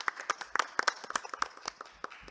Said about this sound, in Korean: 우리 구자훈 선생님 발표에 대해서도 여러분들 좀 박수 부탁드리겠습니다.